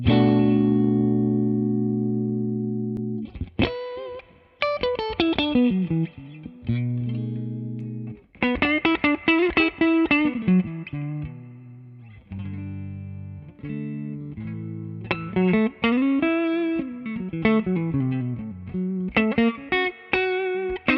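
An electric guitar played through a Mesa Boogie Lonestar tube amp plays sustained chords and melodic runs with a warm amplified tone, a reverb tail ringing after each phrase.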